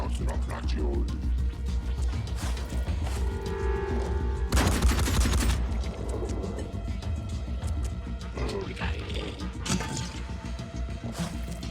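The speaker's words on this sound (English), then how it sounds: "Don't you shoot my Speedy" Bursts of gunfire in the tactical video game Phoenix Point, with a dense volley in the middle over game music and effects, loud and continuous.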